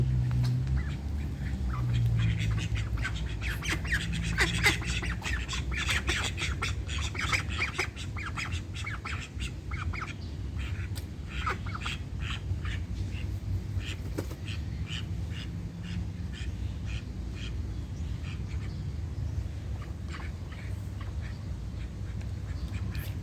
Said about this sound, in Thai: นี่เป็ดน่ารักเดี๋ยวเขาจะปล่อยออกไปเล่นน้ำที่สระเมื่อกี้